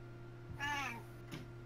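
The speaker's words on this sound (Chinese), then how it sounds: "喵， 猫咪。" A cat meows once in the video game Minecraft, a clear, drawn-out mew standing out over a steady low game hum, followed by a faint second chirp.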